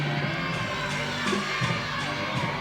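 Crowd at a college gymnastics meet between ASU and Arizona cheering a routine, a dense mass of shouts and whoops from many voices, sustained and lively, with higher shrieks swelling at moments.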